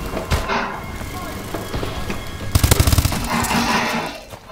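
Rapid bursts of gunfire in the online multiplayer shooter Call of Duty: Advanced Warfare on PS4, loud and close, a quick volley of several shots mixed with game noise and voices.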